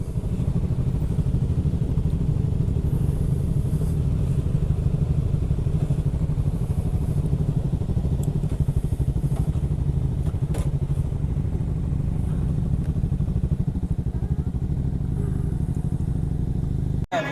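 A motorcycle engine runs steadily throughout, a constant low rumble with occasional faint clatter, close and loud, no talking.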